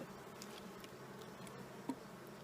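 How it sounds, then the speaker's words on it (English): Honey bees in a newly installed hive, festooning without drawing wax comb, give off a faint, steady insect drone with a brief sharper buzz near the end. "I got some festooning bees, but no wax."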